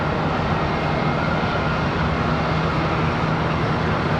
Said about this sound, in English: American Airlines 2242, this one off to Puerto Plata. 737-800.